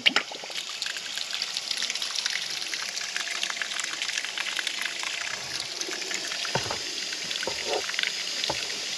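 Dirty water drains from the bottom of a well pressure tank, splashing and trickling out steadily in a continuous hiss, close and fairly loud, with a few scattered drips.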